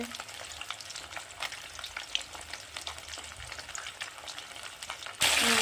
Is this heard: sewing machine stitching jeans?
no